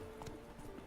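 Horse hooves clip-clop in The Witcher 3 video game, a quiet, brief stepping rhythm under low background noise.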